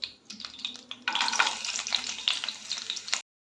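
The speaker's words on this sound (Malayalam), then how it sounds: "ഇനി അണ്ടിപ്പരിപ്പ് വറുത്തെടുക്കാം." Cashew nuts fry in hot oil for a mackerel biryani, a soft sizzle that turns louder and crackly as the nuts are stirred, then stops abruptly.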